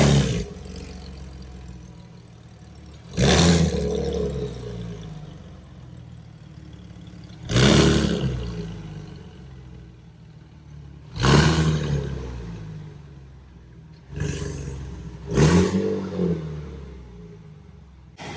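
A Porsche 986 Boxster S flat-six strapped to a dyno revs hard toward 7500 rpm in four or five sharp bursts, each rising to a loud roar and dropping back to a low idle between pulls.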